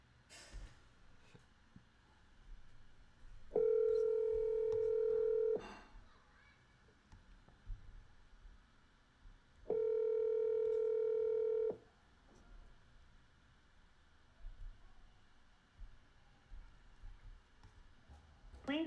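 Telephone call audio: two separate bursts of steady stacked tones, each about two seconds long, stand out clearly against a quiet, faintly noisy background, like a ringback tone sounding twice with a pause between.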